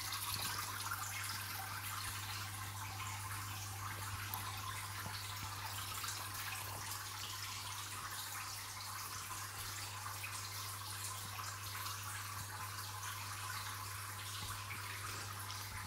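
Water running steadily during a one-third water change of a home aquarium with tetras, a continuous faint splashing hiss alongside a low, constant hum.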